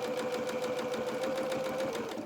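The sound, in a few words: sewing machine stitching a seam on fabric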